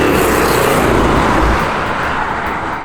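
A 600 HP BMW drives along with a loud, steady roar of engine and road noise from inside or close by, easing off slightly toward the end.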